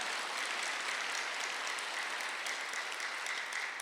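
A church congregation claps during a Sunday worship service, a dense, steady wash of many hands that holds evenly for about four seconds.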